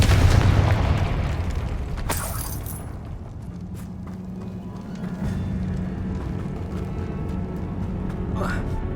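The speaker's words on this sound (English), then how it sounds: "Confringo!" A Confringo fire spell explodes in Hogwarts Legacy, a sharp burst followed by a sustained low rumbling roar, with game sounds continuing underneath.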